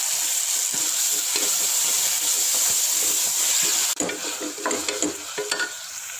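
Ghee poured into a pan of egg biryani with softened tomatoes: a loud, dense sizzle and hiss holds steady, then dips suddenly and breaks into uneven crackling and stirring scrapes close by.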